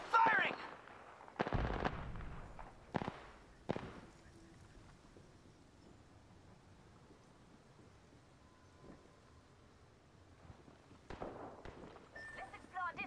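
Bursts of gunfire in the video game Apex Legends, several sharp loud volleys early on, a quiet stretch, then more shots near the end, with people talking over the action.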